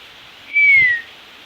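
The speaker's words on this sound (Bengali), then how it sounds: "মিঠু মিঠু কিন্তু ডাক দিচ্ছে" A pet myna gives a single clear, loud whistled call lasting about half a second, close by, with a faint low bump beneath it.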